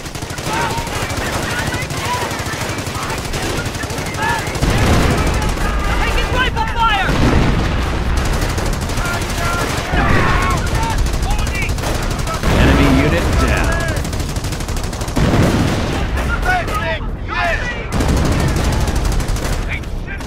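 Artillery shells and gunfire in the World War II strategy game Company of Heroes: heavy booming explosions land every few seconds over constant rattling machine-gun and rifle fire, loud and dense throughout, with voice chatter mixed in.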